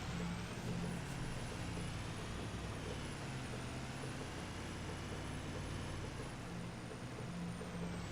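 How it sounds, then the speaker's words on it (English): Continuous low rumbling truck engine drone with a faint high whine above it, steady and unbroken throughout, in Farming Simulator 25. "this is also my truck"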